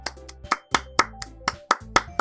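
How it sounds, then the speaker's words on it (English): Sparse applause in the Doki Doki Literature Club video game, about nine crisp, close hand claps in a loose, slightly uneven rhythm, alone with no talk. "I'm the first to start applauding."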